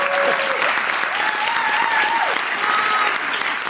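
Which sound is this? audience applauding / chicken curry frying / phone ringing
audience applauding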